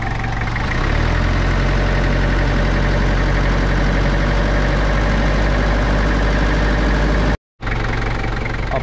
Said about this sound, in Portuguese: Após uns 20 minutos na marcha lenta, ainda não vazou aqui.